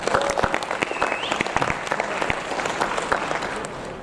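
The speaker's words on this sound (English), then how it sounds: "Round of applause for him." An audience at a marketing conference applauds, a crowded, fairly loud burst of clapping that runs steadily for the full four seconds and fades slightly at the end.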